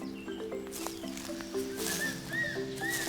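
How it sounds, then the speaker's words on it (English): Call of a Taiwan eagle, repeated high thin whistling notes over a steady low hum in the background, fairly faint and distant. "So that's the sound of a Taiwan eagle."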